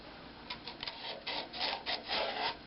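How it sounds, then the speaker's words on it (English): Sandpaper rubs against a small woodturned Christmas shadow box ornament spinning on a lathe, giving a steady hiss with short rasping surges, close and continuous with no talking. "I'll go ahead and sand this a little bit in here too while I'm at it."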